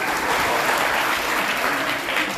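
Audience applause at a Dua Foundation gathering, a steady dense wash of clapping hands lasting throughout at even loudness with no talk over it.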